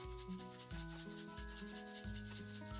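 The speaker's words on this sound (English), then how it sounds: "I'm gonna go ahead and whisk up my other ingredients that's going in the potato soup" Steady rhythmic scraping and swishing of a whisk stirring potato soup ingredients with two cans of cream of mushroom in a bowl, close and continuous with no speech.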